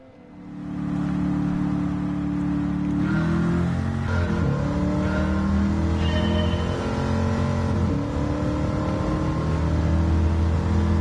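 Car engine in Gran Turismo 7 idling, then accelerating through a few gear changes, steady droning revs climbing and dropping with shifts, close and fairly loud, no talking.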